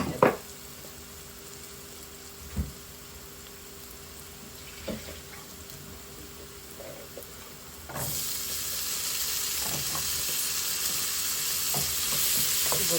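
Cut potatoes frying in a pan with powdered spices, giving a soft sizzle with scattered clanks of stirring at first and then a louder, steady frying hiss that continues to the end.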